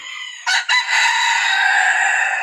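A rooster crows loudly and close by, one long drawn-out call after a brief clucking start.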